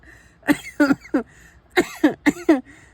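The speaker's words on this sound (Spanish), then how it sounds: "sigo con lo de la tos" A woman coughs in two short bursts of three to four harsh, close coughs each, separated by a brief pause, loud and dry.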